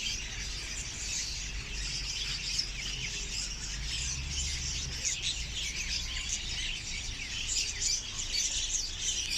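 Budgerigars and other pet birds at a large bird market in Seeb, Muscat, Oman chirp in a constant, bright, busy chatter, with a low background rumble underneath and no speech.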